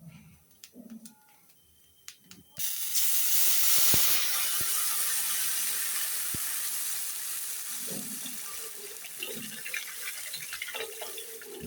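Water poured into a pan of fried mung dal hits the hot oil with a sudden loud, steady sizzling hiss that starts a few seconds in and slowly eases, with faint kitchen clatter before it.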